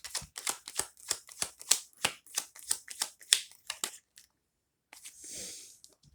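Tarot cards riffle and slap in a quick run of about a dozen crisp, close shuffles, then a short pause and one softer, longer sliding shuffle at the end.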